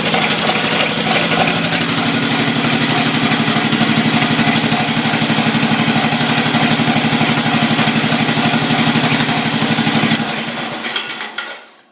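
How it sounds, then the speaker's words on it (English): A 1968 SS12 engine, cold started and running on stale gas, chugs loudly and steadily with a rough, sputtering idle for about ten seconds before shutting off with a few last pops. "he's running some stale gas in it, so it's spitting and sputtering"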